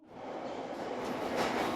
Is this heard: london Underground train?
yes